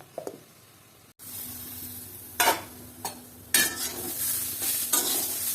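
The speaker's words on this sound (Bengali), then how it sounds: "এখন আমি আরও কিছু সময় এভাবে নাড়াচাড়া করব, তারপরে মশলাটা দিয়ে দেব" Taro mixture stirred in a pan, the soft hiss of cooking broken by a few rough scraping strokes of a spatula, the sizzle swelling louder after a brief silence early on.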